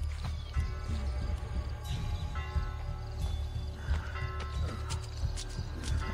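Horse in the video game Assassin's Creed Brotherhood, repeated clip-clop of hooves with snorts and neighs, moderately close under a game soundscape of mechanical clicks and occasional faint voices.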